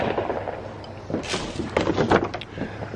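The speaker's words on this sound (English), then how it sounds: "So it's time to get these fireworks popping." Fourth of July fireworks going off outdoors, a run of sharp cracks and pops clustered in the middle and later part, loud and near, over a low ambient rumble.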